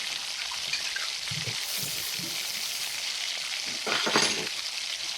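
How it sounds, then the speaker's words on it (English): Food for Spanish pork and beans sizzles in a frying pan with a steady, moderate crackle throughout, with brief stirring and clatter toward the end. "watch that sizzle for me,"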